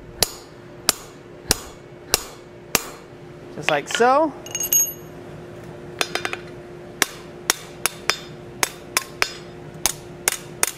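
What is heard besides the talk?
hammer driving a punch into hot steel at a forge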